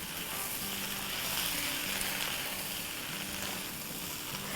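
Chicken chili frying in a pan gives off a steady soft sizzle while it is stirred, a continuous faint hiss heard close with no talking.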